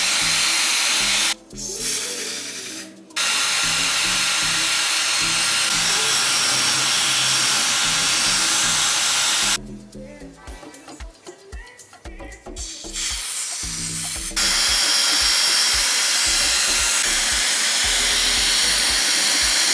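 A hair dryer on its cool setting blowing over lace glue on a wig install, a loud steady close whoosh that cuts on and off several times, with rustling handling between runs.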